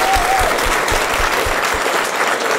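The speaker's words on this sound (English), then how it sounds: "give one last big round of applause to our" A final big round of applause for panelists at a conference session on cultural perspectives on psychedelic science, loud and dense crowd clapping that sustains throughout, with a brief whistle-like tone near the start.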